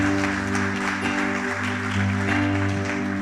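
A church congregation claps loudly for the Lord during a Spanish-language service, a full wash of applause over steady sustained music tones that continue throughout.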